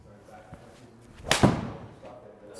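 A golf club strikes the ball off the toe, producing a single sharp thud and short whoosh in the middle of an otherwise quiet outdoor moment.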